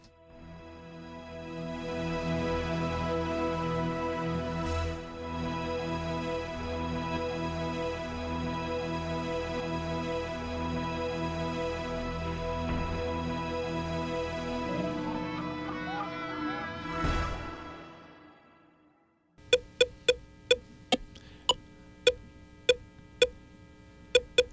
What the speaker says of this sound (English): That's Pong.